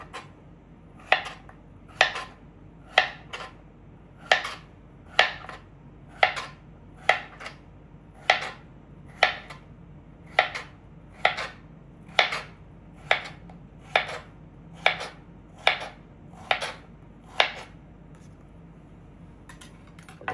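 Cucumber is cut into bite-size pieces on a board: about twenty crisp knife chops land at a fairly steady pace of roughly one per second, close and clear over a faint background hum.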